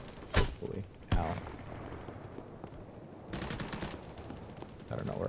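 Gunfire in the shooter game BattleBit Remastered: two sharp, loud shots stand out near the start, followed by dense, sustained bursts of distant-sounding firing and battle noise.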